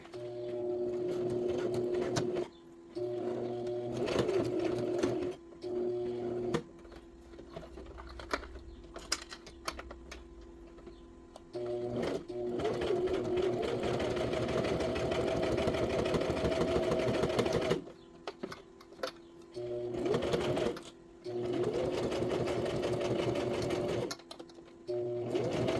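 A sewing machine stitches through clear vinyl in loud bursts of rapid mechanical chatter separated by short pauses, some stretches longer and steadier than others.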